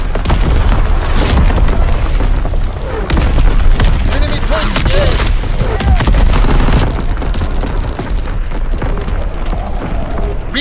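Artillery battery firing in the Call of Duty: WWII beta, heavy booms and overlapping blasts rolling continuously across the scene, loud and dense amid battlefield noise, with shouted voices in the mix.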